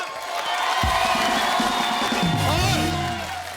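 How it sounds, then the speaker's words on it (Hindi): A studio audience at a Hindi television show cheers and whoops loudly as Salman Khan is welcomed on stage. The steady crowd roar holds for several seconds, with individual shouts rising out of it. "तो अब हो जाए खुल के तालियां"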